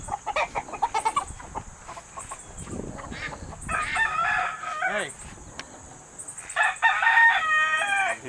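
Rooster crowing and chickens clucking on a farm, several loud crows rising over busy rapid clucking from a flock nearby, with a brief spoken word from a person.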